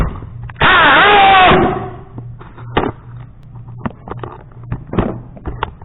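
Hammer drill set to hammer mode revving in one loud sustained burst of about a second, then fading into scattered clicks, taps and handling knocks nearby.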